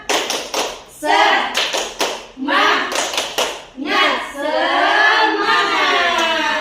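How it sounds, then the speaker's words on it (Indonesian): Group of children doing tepuk semangat, a rhythmic spirit clap in a classroom, with bursts of patterned claps and chanted voices alternating over several seconds. "Tepuk semangat. Ya, tepuk semangat."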